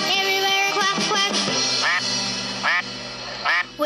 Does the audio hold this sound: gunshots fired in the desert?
no